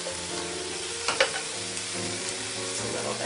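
Layered bread crumbs frying gently in olive oil over low heat, a soft continuous sizzle with a couple of light clinks from a utensil.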